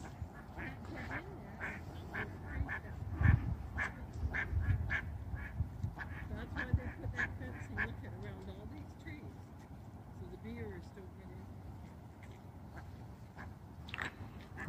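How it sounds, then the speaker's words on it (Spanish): Canada geese honking and calling in a park, repeated short calls at moderate distance over steady outdoor background noise while someone talks. "Ahí están los patos canadienses,"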